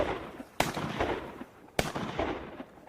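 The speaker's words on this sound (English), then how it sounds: "Shoot that Drake." Two loud, sharp shotgun blasts about a second apart, fired at a drake duck during a duck hunt outdoors, each followed by a brief rumbling echo.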